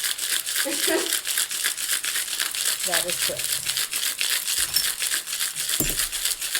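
Hard, continuous rattling shake of ice in a cocktail shaker, loud and close, with a few brief words spoken over it.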